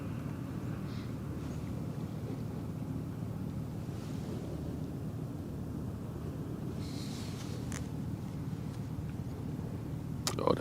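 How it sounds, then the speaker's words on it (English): A ship engine on the Westerschelde purrs as a low, steady rumble beneath wind buffeting the microphone and washing water, with a few faint distant knocks and no speech. "This one has a very relaxing purring sound,"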